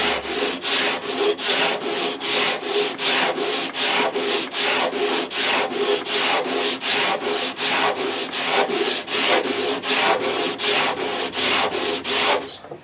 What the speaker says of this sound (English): I actually do an 8 count when I'm sanding.